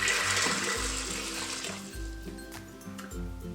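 Six cups of water pour steadily into an Instant Pot holding black beans, making a continuous splashing rush. The pour is loud at first, then eases, with low thumps throughout.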